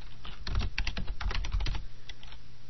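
Rapid typing on a computer keyboard, a quick run of close, crisp key clicks for about two seconds, then a few last taps trailing off, with no voices.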